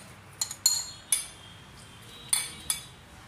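A spoon mixing semolina and puffed rice in a bowl strikes the side about six times, each a crisp, close clink spaced unevenly over quiet background.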